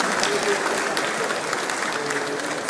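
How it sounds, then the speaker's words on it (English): Audience applause for the Governor of Lagos State at an Invest Lagos business event, a steady, dense wash of many hands clapping throughout, loud and sustained with some crowd murmur beneath. "An echoing round of applause,"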